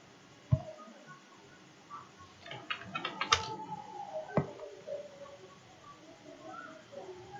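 Computer keyboard typing at a command prompt, a brief burst of quiet rapid key clicks and a few isolated louder taps in a quiet room.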